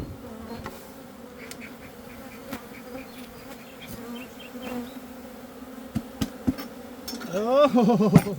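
Honeybees swarm around beehives in a buzzing, droning haze, with sharp clicks and knocks, and a louder burst of buzzing close by near the end; no one speaks.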